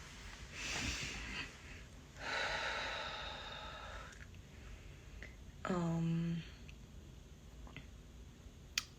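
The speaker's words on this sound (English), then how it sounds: "take a few breaths in" Slow, deep breaths drawn in during a mantra meditation, soft and close in a quiet room. Two long airy inhales are followed by a brief voiced exhale.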